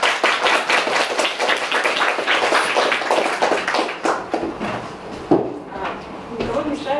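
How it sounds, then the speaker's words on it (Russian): Applause at the presentation of a Russian feminist association, scattered hand claps rising and thinning out over several seconds, moderately loud, with voices and small knocks near the end. "Прошу аплодисменты."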